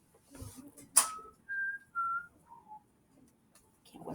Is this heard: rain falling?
no